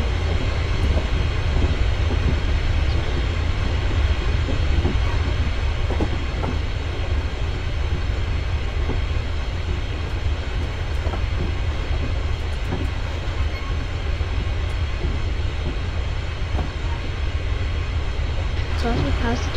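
A Class 380 electric train runs through Train Simulator 2019 on the Glasgow Central to Glasgow Airport route, a steady loud rumble with low drone and faint clickety-clack, continuous for the whole stretch with a voice talking over it.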